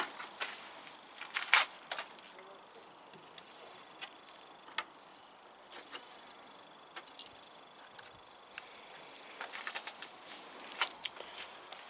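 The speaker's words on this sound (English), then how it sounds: "There's little tiny keys here, and normally off like little diaries for kids, or little jewellery box keys." Small metal keys for children's diaries and jewellery boxes jangle, pulled out by a magnet fisher at a canal: light, close, scattered clinks and rattles against a faint outdoor background.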